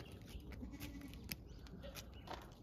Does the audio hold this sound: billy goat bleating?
yes